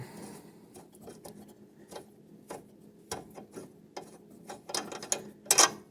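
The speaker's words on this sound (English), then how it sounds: "I'm going to have a ratcheting wrench, but you could use a long impact. And there we go. I'm going to take that out." A ratcheting wrench loosens a bolt on the mower deck of a Husqvarna or Craftsman riding mower, giving quiet, irregular clicking ratchet strokes that grow slightly louder toward the end.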